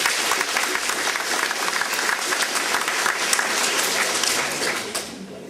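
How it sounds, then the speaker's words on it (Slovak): A crowd at a village feast gives the singing ladies a long burst of dense, steady applause that fades slightly at the end. "poprosím ešte jeden krásny potlesk pre dámy, ktoré nás tak obveselili"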